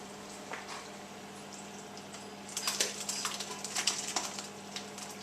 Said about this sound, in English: You can actually begin to hear the juice dripping through the tea towel, which is a very satisfying sound.